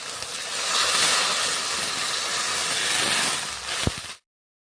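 Water poured into frying spice masala in a pan for a Bengali fish curry, giving a loud, steady broadband sizzle and hiss that holds for about four seconds before cutting off abruptly, with no voices.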